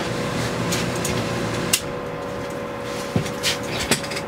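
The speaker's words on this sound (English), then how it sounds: "I'll shut the air conditioner off for a second." A room air conditioner runs with a steady, constant hum and hiss, with a few faint clicks and knocks on top and no talking.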